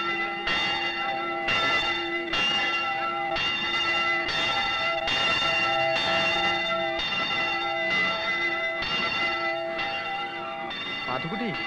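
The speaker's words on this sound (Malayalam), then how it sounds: "പള്ളിമണിയല്ലേ കേക്കണേ" Church bell ringing with steady repeated strikes and long ringing overtones, loud and close, in a Kerala village scene, with a brief voice near the end.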